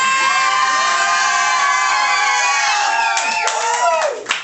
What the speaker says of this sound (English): the whole crowd goes mad